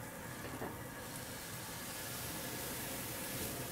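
Brandy flaring up in a pan of sautéed bacon, peas and garlic, a steady soft roaring hiss of flame that holds evenly throughout, fairly quiet and with no talking.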